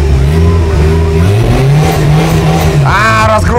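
A car fitted with bicycle wheels revs loud and close, its engine tone climbing steadily as it accelerates, with a sharp rising whine near the end.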